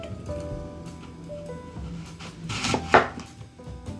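Knife chopping half an apple into small pieces for a pink cocktail, a series of close, crisp cuts against a board, with a louder thud near the end and no talking.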